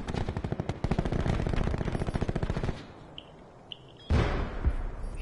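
Rapid automatic gunfire rattles in a long sustained burst during a Call of Duty match, then stops and gives way to a few scattered shots and a short heavy burst near the end.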